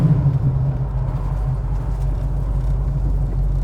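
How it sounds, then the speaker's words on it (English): A 1969 COPO Camaro clone with a 427 Chevy V8 sends out a steady, deep exhaust rumble heard from inside the car while driving, loud and continuous with no talk over it. "the exhaust sounds beautiful"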